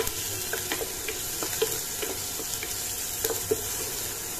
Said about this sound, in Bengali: পেঁয়াজটা আমি ভেজে নেব কিছুক্ষণ।